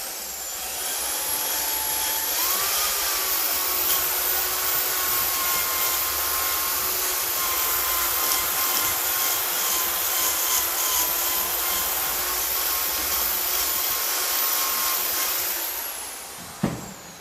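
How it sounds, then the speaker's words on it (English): A ten-year-old electric drill whines steadily at high speed for a long sustained run, with a slight pitch rise at start-up and a spin-down near the end, followed by a brief clunk. "I'll plug in my ever-suffering drill."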